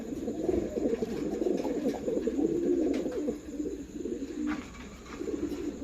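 Newly paired Lahore pigeons coo repeatedly at close range, low throaty rolling calls overlapping in a steady murmur with no talk.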